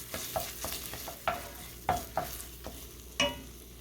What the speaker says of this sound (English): So I'm going to cook this tomato paste.